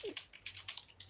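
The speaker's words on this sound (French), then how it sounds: "C'est le GS qui tape comme un ouf sur son clavier" Rapid typing on a computer keyboard, a quick run of sharp close key clicks and clacks at an uneven rhythm, alone with no talking.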